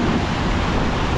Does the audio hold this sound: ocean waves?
yes